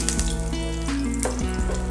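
Curry leaves hit hot oil already crackling with popped mustard seeds while an onion chutney is made, giving a brief, steady sizzle under prominent background music.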